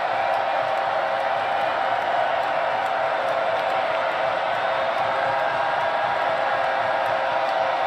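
A football stadium crowd at a Charlotte versus Florida game roars steadily, a dense, continuous wash of cheering heard at a distance, broad and unbroken for several seconds.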